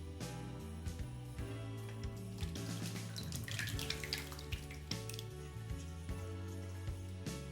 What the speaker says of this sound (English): So now I'm going to pour it into my dish.